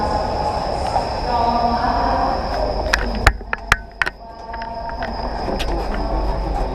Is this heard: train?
yes